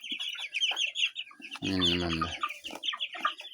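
A flock of chickens and roosters at close range, with busy overlapping clucks and chirps and one loud drawn-out squawk in the middle; a person speaks briefly.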